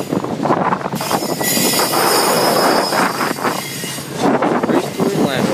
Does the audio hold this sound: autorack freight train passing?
yes